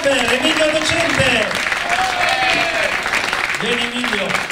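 An audience at a summer camp presentation breaks into steady, dense applause, with a voice talking over the clapping throughout.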